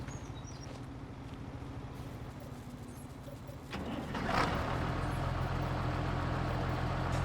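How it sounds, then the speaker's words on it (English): A tractor engine in the Farming Simulator game idles with a steady low rumble, then revs louder and runs on at a constant drone. There is no talking. "That's why we got the tractor down here."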